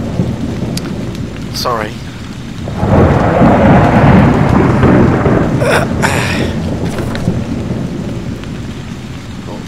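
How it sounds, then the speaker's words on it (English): A deep rumble of video game thunder from the PC game Haunted Memories builds and rolls for several seconds over steady rain, with a brief spoken word early on. "then the thunder drowned out your voice"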